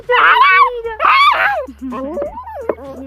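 A cat yowls loudly in two long, wailing cries close to the microphone, followed by shorter rising and falling mewls while someone speaks softly.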